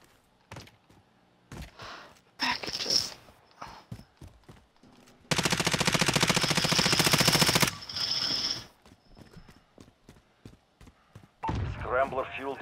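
A player's gun fires in a video game: scattered single shots and short bursts, then a long loud sustained volley of automatic fire lasting a few seconds, followed by quieter mechanical clicks, with people talking between the shots.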